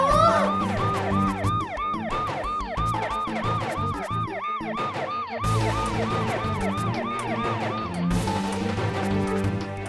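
A wailing ambulance siren cycles up and down repeatedly, loud and close, with steady traffic rumble underneath and a brief pause partway through, in a drama scene.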